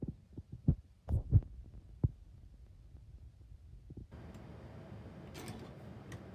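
Home sewing machine running a 1/4 inch quilt seam, a steady low mechanical whir rising after several soft handling thumps, continuing close and moderately loud to the end.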